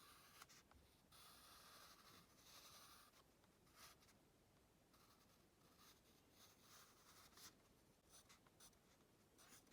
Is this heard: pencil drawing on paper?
yes